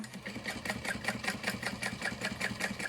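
A sewing machine runs steadily at moderate speed, basting layers of backpack fabric together with a quick, even mechanical stitching rhythm, close and fairly quiet.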